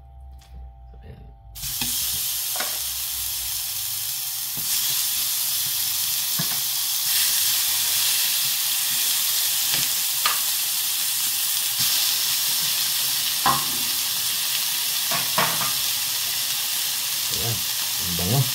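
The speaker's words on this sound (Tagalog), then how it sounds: "ito na yung time na ilalagay natin yung aking fillet steak" Fillet steak searing in a hot pan, a loud continuous sizzle and hiss that starts abruptly and holds steady, with small crackles and pops throughout.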